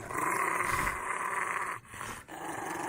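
A dog growls steadily and close up, a continuous rough rumble with two brief breaks for breath, heard alone without talk.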